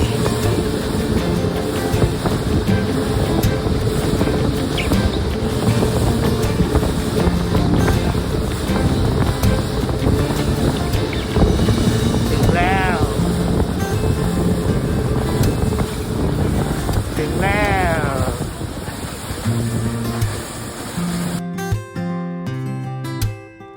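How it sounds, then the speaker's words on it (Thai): A loud, steady engine roar with rushing water and wind noise, sustained throughout, as a speedboat runs at full throttle on the sea off Pattaya, Thailand. "สปีดโบ๊ทเปิดเครื่องเต็มที่แล้วครับเพื่อนๆ ไปกันเลย"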